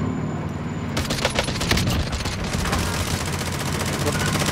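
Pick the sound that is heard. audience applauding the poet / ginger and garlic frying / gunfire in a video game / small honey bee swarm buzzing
gunfire in a video game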